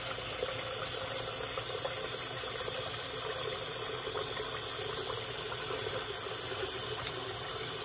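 Hair rinsed under running water from a tap, a steady, fairly quiet hiss of flowing water that continues unchanged throughout with no voices.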